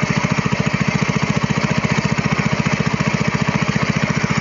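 A small water pump engine running on a homemade LPG carburetor throbs close and loud with a fast, even beat, pumping water steadily at high revs.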